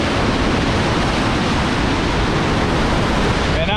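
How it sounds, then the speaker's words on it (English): Lake overflow water rushes loudly down a graffiti-covered drainage tube at Upper Girard Lake in Girard, Ohio, a steady, dense roar close by. "That's the water from the lake that's coming down. That's the overflow water."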